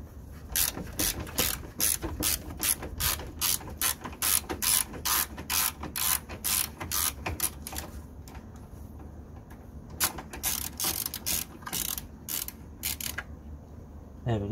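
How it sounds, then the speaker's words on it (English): Ratchet with a 10 mm socket undoing a bolt beneath the coolant expansion tank on a Ford Focus, rapid close clicking in steady bursts that pause briefly and resume. "So we're going to use a 10 mil socket to undo this bolt underneath here."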